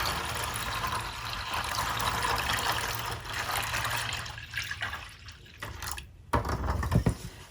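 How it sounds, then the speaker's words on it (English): Water is poured into a coffee dye mixture for staining paper, a continuous close liquid pour and trickle that thins out, followed by a few brief splashes and drips near the end. "I'm going to add some more water."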